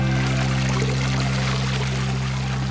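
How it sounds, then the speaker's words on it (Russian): In a children's cartoon, a watering can pours water over stranded dolphins as a continuous, loud, steady stream with a low hum beneath it. "Лотти, поливай дельфинов."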